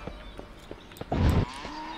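A cow in the farming shooter game Shotgun Farmers lets out one short, loud moo after a string of light tapping sounds.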